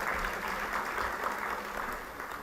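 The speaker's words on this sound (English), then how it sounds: "Let's give him a big round of applause." Audience at a global entrepreneurs conference applauding in a steady, faint wash of clapping heard from some distance.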